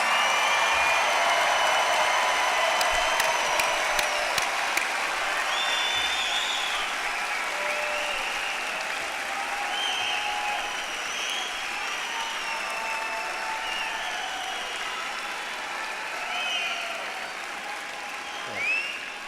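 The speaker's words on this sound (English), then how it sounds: "give them your rousing applause" A large crowd at a university graduation ceremony gives sustained, rousing applause, dense clapping that fills the space and slowly eases off over about twenty seconds, with a few cheers rising above it.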